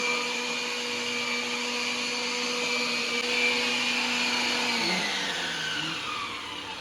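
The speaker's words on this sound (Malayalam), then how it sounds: "ഇത് ഞങ്ങൾ മിക്സിയിൽ അരിഞ്ഞ കേട്ടോ, മിക്സിന്റെ ജാറിൽ." A mixer grinder jar runs steadily, chopping onions with a loud, continuous motor whine that shifts pitch near the end as the load changes.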